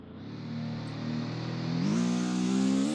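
A race car accelerates on an Australian track, its mid-pitched engine droning steadily and then climbing in pitch after a gear shift, heard close and continuously with no voices.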